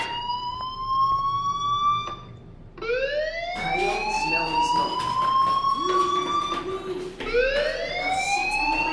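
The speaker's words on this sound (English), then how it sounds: "do you hear that fire alarm? That means you should be outside." A fire alarm in the Life Is Strange video game sounds as a loud, rising electronic siren-like wail. It repeats in swelling sweeps with short breaks between them, with no talk over it.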